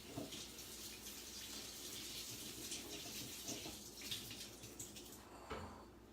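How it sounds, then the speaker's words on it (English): Tap water runs steadily over beans in a kitchen sink, a continuous broadband splash that holds for several seconds before easing off near the end. "Gonna run a little water over those beans so we can build our bowl in just a minute."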